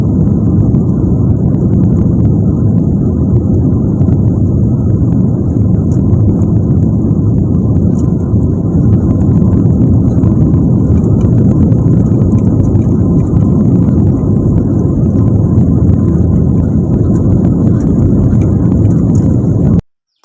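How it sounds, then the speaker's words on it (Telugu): Passenger jet engines on a Chennai to Dubai flight roaring through the takeoff roll, a loud, dense, steady rumble with a thin high whine above it, heard from inside the cabin, cutting off abruptly at the end. "చూసారు కదా ఫ్లైట్ అయితే ఎంత స్పీడ్గా అయితే వెళ్తుందో"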